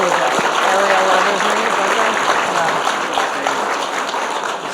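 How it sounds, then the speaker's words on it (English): Audience applause at a talk event on presidential campaigns and the 2020 caucus, a steady wash of clapping throughout with some talking mixed in. "Please give all these sponsors a round of applause."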